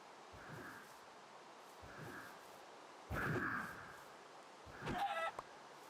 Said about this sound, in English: we're killing chickens with this